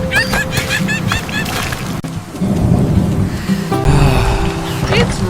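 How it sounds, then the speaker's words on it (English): Heavy rain pours steadily with rumbling thunder in a storm over a tomato garden, loud and continuous throughout, while cartoonish voices and chirpy sounds come and go over it. "It's raining so heavily."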